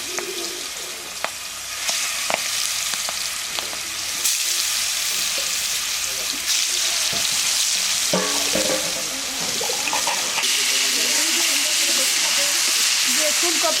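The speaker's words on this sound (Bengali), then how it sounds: "তেলটা আমার গরম হয়ে গেছে। এখন এর মধ্যে আমি মাছটি দিয়ে দিব।" A large boal river fish, about five kilograms, frying in hot oil in a wok, a continuous loud sizzle and spitting hiss with occasional stirring clatter, close and steady throughout.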